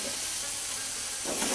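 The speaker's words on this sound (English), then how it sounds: "Then you saute the chicken" Chicken sautéing in a non-stick frying pan gives a steady, close sizzle and hiss that swells briefly near the end, with no talking.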